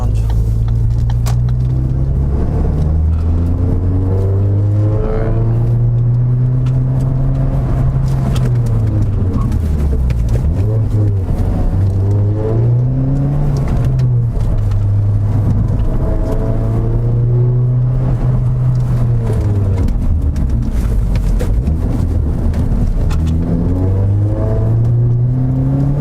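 Ford Focus ST fitted with Hawk HP Plus brake pads accelerates through a neighborhood, its engine droning loudly from inside the cabin and rising and falling repeatedly as it speeds up and slows down.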